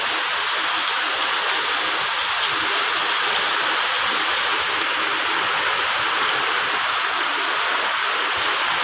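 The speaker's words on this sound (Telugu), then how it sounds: "ఇక్కడ వచ్చేసి వర్షం అయితే చాలా గట్టిగా పడుతుంది" Heavy rain pours down outdoors in a dense, continuous roar of drops striking surfaces, steady and loud throughout with no voices.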